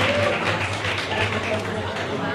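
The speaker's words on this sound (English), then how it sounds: "Give them a big round of applause." Audience applause at a college science quiz, steady broadband clapping from a seated crowd that holds evenly for the whole stretch over a low room hum.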